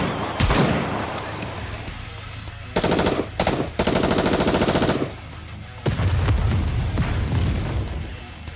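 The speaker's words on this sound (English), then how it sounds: "Focus fire! Everyone in Absolute opens fire." Automatic weapons fire erupts in dense, loud bursts as a squad opens fire together in the video game Goddess of Victory: Nikke, with several sustained volleys separated by brief pauses, sitting alone without speech.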